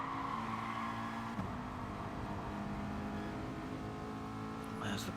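Race cars battling in a Gran Turismo race at Dragon Trail Gardens or Alsace Village, a steady layered engine drone with revving pitch shifts and a short tire squeal near the end, under a commentator's voice.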